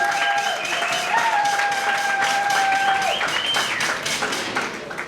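Loud crowd applause and cheering at a wedding celebration, a steady broadband wash of many hands lasting throughout, with a sustained whistle-like tone over the first part.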